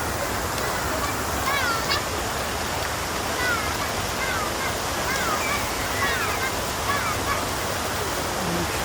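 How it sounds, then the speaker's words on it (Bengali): A waterfall fountain in a large park in Al Aziziyah splashes in a steady, dense rush of water that fills the whole scene, loud and continuous, with faint bird chirps above it. "এদিকে আবার এটা ঝর্ণা, সবগুলো পানি আবার ঝর্ণা।"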